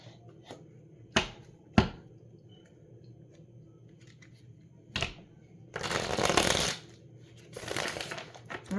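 Tarot cards are handled close up: a few sharp taps and snaps, then two bursts of riffling shuffle near the end, with quiet between.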